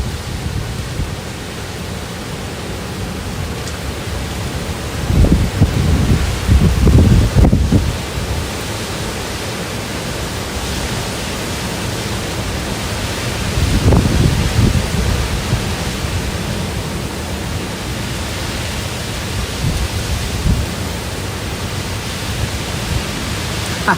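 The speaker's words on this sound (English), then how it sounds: "Seeing some very strong gusty winds coming in here." Strong gusty typhoon winds sweeping through the town of Baler in the Philippines, a constant roaring rush with louder buffeting surges against the microphone every several seconds.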